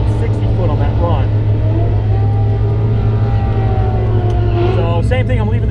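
A drag race car on street tires at 20 PSI launches down the strip with a loud, sustained engine drone, its pitch climbing and dipping through the run, with a voice heard over it.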